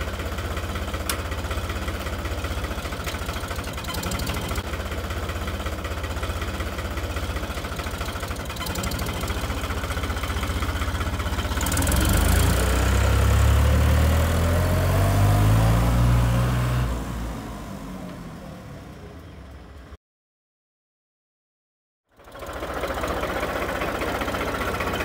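A tractor engine runs steadily at moderate loudness, with a heavier low rumble swelling for a few seconds as it works, then a brief dropout before the drone resumes.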